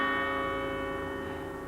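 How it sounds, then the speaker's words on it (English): A doorbell chimes at a house front door, its sustained ringing tones sounding steady and moderately loud, slowly decaying over a couple of seconds with no talking. "Ring the bell."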